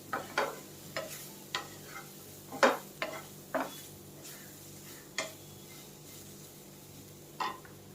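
Bitter gourd slices roasting in a pan on low gas, stirred with a utensil that knocks the pan in sharp, scattered clicks over a faint, steady sizzle; no one speaks.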